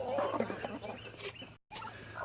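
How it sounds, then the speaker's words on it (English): Chickens cluck steadily at close range in a farmyard at feeding time, a dense run of overlapping clucks and calls, broken by one brief dropout near the end. "I come down here to feed the chickens."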